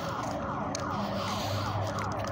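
Loud electronic alarm siren wailing in a residential alley, sweeping up and down in regular rapid cycles, steady and close with a low rumble underneath and no voices.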